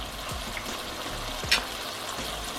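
Minced garlic frying in a hot pan in a home kitchen while a hamburger casserole is being made, giving a steady close-up sizzle with a couple of soft stirring scrapes and one brief sharp spatter.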